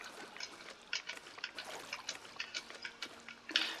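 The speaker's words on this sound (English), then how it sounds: "Let's just pick up a shed load of dirty water." Dirty water being collected in Fallout 76, a faint run of small trickling and splashing bursts at irregular intervals, ending in a brighter splash, with no one talking.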